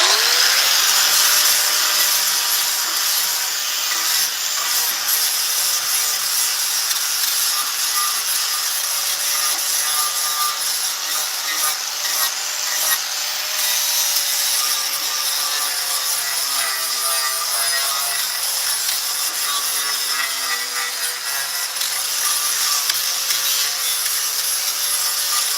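Gouge working wood while carving a cardinal, a continuous close, loud abrasive scraping and rasping that runs steadily with no talk.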